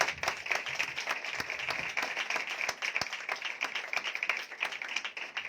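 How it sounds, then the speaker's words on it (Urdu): A congregation claps steadily in a dense, continuous burst of applause at a church meeting, heard at moderate distance with no speech over it. "یسوع کی قدرت کے لیے زوردار تالیاں بجائیں"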